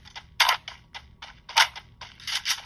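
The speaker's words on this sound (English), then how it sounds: "I wonder who they were shooting at." Gunshots from a mobile shooting game played on a T-Mobile Revvl 4G (2020) phone: three separate bursts of sharp, crackly shots spaced about a second apart, moderately loud and close, with no talk.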